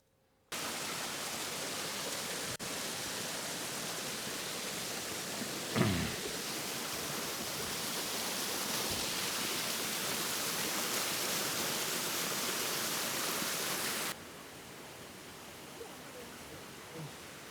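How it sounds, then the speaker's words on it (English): Water rushes steadily through an old water-driven prayer wheel in Bhutan, a constant close hiss of flow with a single soft knock partway through, before the level drops slightly near the end. "we see in a water-driven prayer wheel."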